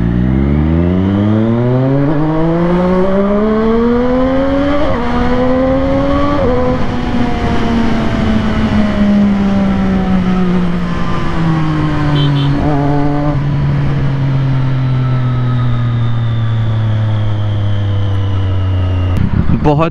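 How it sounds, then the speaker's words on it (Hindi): A Triumph Daytona 675R motorcycle ridden on the road, its engine loud and close as it revs up through the gears with rising pitch, shifts, then settles into a steady high-speed drone. "बाइक चलाने का फुल मूड ऑन है एंड मैं चला रहा हूँ अपनी ट्रायम्फ डेटोना"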